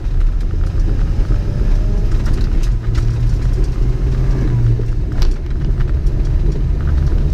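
A car with no power steering drives along, its engine a steady low rumble with road noise close and loud, no voices.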